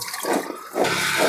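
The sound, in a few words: running tap water washing taro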